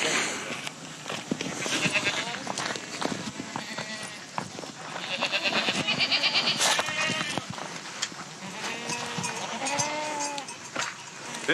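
Several goats bleat repeatedly at close range, overlapping wavering calls rising and falling across the whole stretch, with scattered hoof and movement noises in between.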